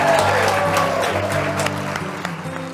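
An audience claps for a country singer on a TV show stage: dense, steady applause fills the whole moment and eases off slightly toward the end, with faint tonal music underneath.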